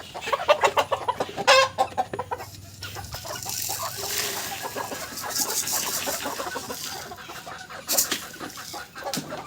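Golden chickens cluck steadily while being fed corn and poultry feed in the morning, several birds close by with busy overlapping calls and pecking noises.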